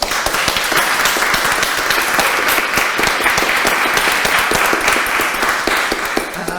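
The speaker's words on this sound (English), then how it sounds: "So a round of applause for everyone." An audience at a fireside chat on women and the arts gives a round of applause for the speakers and performers, a loud, full, sustained clatter of many hands that holds steady throughout.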